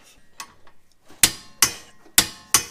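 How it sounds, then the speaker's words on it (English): Torque wrench on a Mazda 5 rear strut bolt tightened to 75 pounds, giving four sharp, close clicks at fairly even intervals after a few softer taps, with no one talking. "we gotta torque this bolt down"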